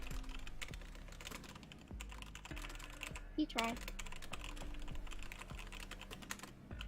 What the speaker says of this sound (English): You sure are typing there.